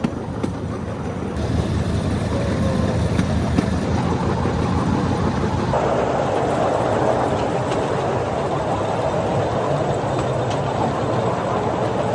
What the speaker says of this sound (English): this experience of the bamboo train